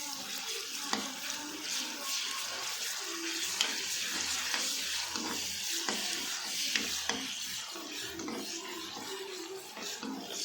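Ginger garlic paste fries with softened onions in a pan for prawn curry, giving a steady low sizzle with occasional stirring scrapes and faint kitchen water sounds.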